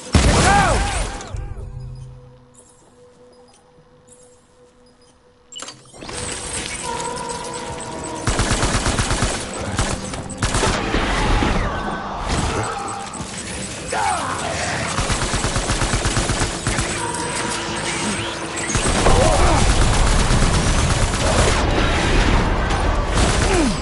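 Gunfire in Death Stranding: after a quiet lull, loud rapid bursts of automatic shots and shattering impacts erupt and continue densely through the rest of the fight.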